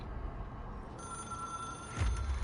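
A telephone rings in the video game Control: a steady electronic ring tone starts partway through and holds over low background hum, growing louder toward the end.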